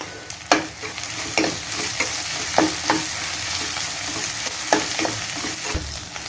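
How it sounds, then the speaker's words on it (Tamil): Onion and crushed garlic with ginger-garlic paste sauté in hot oil in a pan, giving a steady close sizzle throughout, broken by several sharp scraping stirs of a spatula; no one speaks. "இஞ்சி பூண்டு பேஸ்ட் போட்டு நம்ம வதக்கிக்கலாம் இப்போ நம்ம தட்டி வச்சுருக்க பூண்டு ஆட் பண்ணிக்கலாம்"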